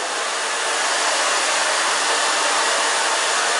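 A hair dryer blows hair dry with a steady, loud, unbroken whoosh, close by and with no other sounds.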